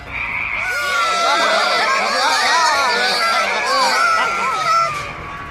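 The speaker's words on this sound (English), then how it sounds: "The frog army cheered." A crowd of frogs cheers in a children's story reading, heard as a dense chorus of overlapping high croaks and squeals, loud and continuous across the whole stretch, with no narration over it.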